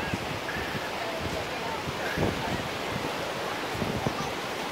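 Ocean waves and wind at Cocoa Beach Pier make a continuous broad wash of surf with gusty wind buffeting the microphone, steady and fairly loud throughout.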